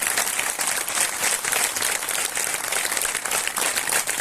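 Loud, unbroken applause from a large church congregation at a fellowship convention in Umarpada, many hands beating rapidly and evenly as a steady roar from start to finish.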